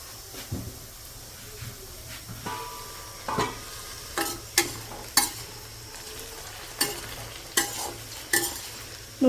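Taro and potatoes fry in a pan seasoned with salt, chili, turmeric and masala, a low steady sizzle broken by repeated sharp clacks and scrapes of a spatula stirring, close and without speech.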